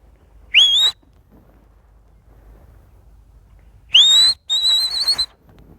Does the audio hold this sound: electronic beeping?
no